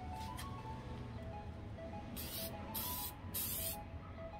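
Mod Podge acrylic sealer sprayed from a can onto cups, heard as three close hissing bursts in quick succession after a faint short spray at the start.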